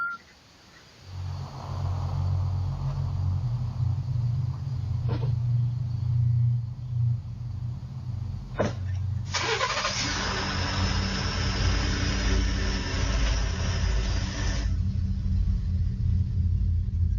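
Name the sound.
car engine running and pulling off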